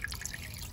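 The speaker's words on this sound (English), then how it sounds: "So what I'm gonna do is sift the water out if I can." Water drips and trickles as it is sifted out of a container of soaked black pine seeds being readied for growing bonsai, a few light close drops over a soft wet background.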